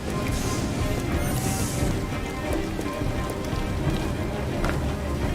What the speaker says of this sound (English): But it's like raining outside.